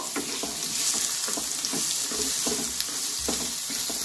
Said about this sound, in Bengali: আদার পেস্ট, পনির আর দিয়ে দিচ্ছি আলু। সব কিছুই একসঙ্গে আমি মিশিয়ে নেব।